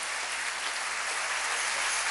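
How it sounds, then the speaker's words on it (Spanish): An audience claps together in steady, dense applause at a Spanish-language religious gathering, heard close and continuous without any talking. "Denle un aplauso al Rey bendito"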